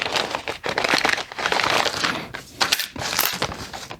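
A plastic package holding wires being cut and torn open, close-up bursts of crinkling and crackling plastic with short pauses between handlings.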